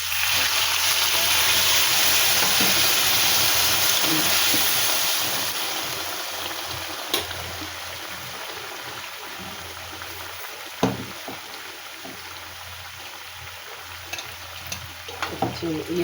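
Loud sizzling and frying in a pan, then a hiss as prawns and a little hot water are added, settling into quieter bubbling with a few clinks of a utensil.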